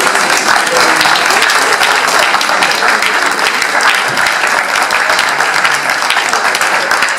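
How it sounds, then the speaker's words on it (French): Loud, dense audience applause at a business school master's graduation ceremony, sustained and even from start to finish, a close wall of many hands clapping. "On les applaudit."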